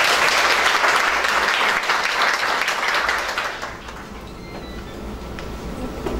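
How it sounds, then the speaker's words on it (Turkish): Sustained applause from an audience at a hospital's 25th anniversary ceremony welcoming an official guest, loud and dense at first, then thinning and easing off toward the end. "aramızda bulunan, bizleri onur eden Sayın Zeytinburnu Kaymakamımız Adem Uslu alkışlarla davet ediyoruz."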